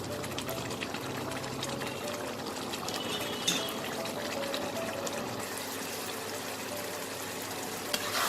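Bengali fish head curry, muri ghonto, bubbling and sizzling in an uncovered pan as it cooks down. A soft, continuous crackle and simmer runs evenly throughout with no talking.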